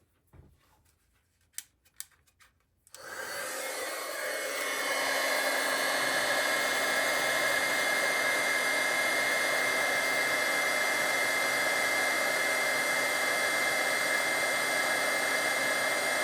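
A heat tool switches on after a few faint rustles and then blows a steady, loud whooshing hum while melting embossing powder on a stamped card, continuing without a break.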